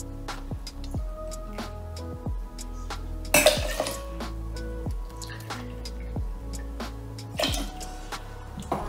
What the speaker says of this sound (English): we're gonna stir all the ingredients together